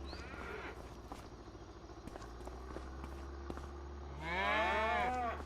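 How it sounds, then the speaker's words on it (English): Cattle in the Farming Simulator 25 video game moo loudly and close at the end, after a stretch of soft shuffling footsteps and light barn noise, with no one talking. "Just want to see how many cows we have in here."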